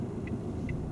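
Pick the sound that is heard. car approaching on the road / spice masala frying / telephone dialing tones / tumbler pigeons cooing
car approaching on the road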